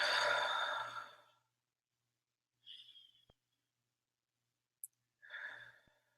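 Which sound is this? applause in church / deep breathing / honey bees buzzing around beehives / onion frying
deep breathing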